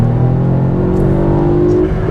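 A modified VW Up GTI hatchback on winter tyres takes a tight corner in second gear, its engine a loud, steady in-cabin drone with a slowly rising tone over a couple of seconds.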